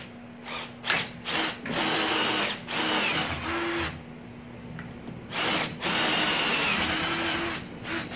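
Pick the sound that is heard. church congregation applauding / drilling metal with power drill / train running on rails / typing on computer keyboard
drilling metal with power drill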